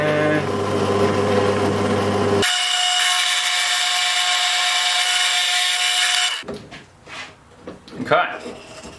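A power drill bores through a wooden piece while a rope ladder for primates is being made, a loud steady whine that changes pitch partway through and then stops abruptly, followed by a few knocks and a voice speaking.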